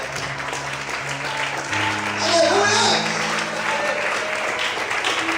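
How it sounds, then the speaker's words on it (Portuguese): A church congregation claps in worship under sustained organ or keyboard chords, with a voice calling out briefly over the clapping. "Bate palma e adore o Senhor."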